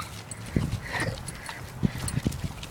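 A dog moves and makes short, faint sounds near the microphone, with scattered thumps and soft yelps under light background noise.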